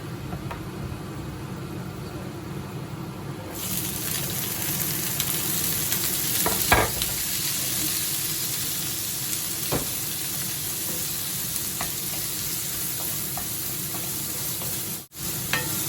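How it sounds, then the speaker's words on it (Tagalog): Onions sauté with browned garlic in a pan for risotto, a steady loud sizzle that swells as they go in, with occasional stirring scrapes and clicks, close and alone. "Pag nag-brown na yung bawang, lagay na natin ulit yung sibuyas."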